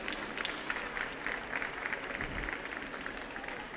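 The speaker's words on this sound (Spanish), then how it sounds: "un fuerte aplauso entonces también para Octavio Bombassi" Sustained applause from an audience at a 25th-anniversary architecture graduates' celebration: steady, dense clapping at moderate distance filling nearly four seconds, with faint crowd murmur beneath.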